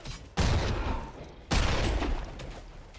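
Video game gunfire in a frantic cover-based firefight, two heavy bursts of shots crashing in one after the other, loud and close, with sustained rattling between them.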